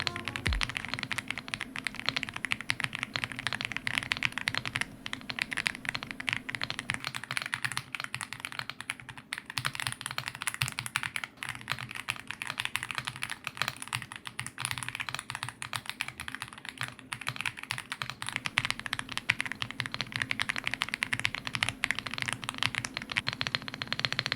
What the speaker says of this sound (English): With the Reaper switches, 5-pin linear switch, here's how it sounds.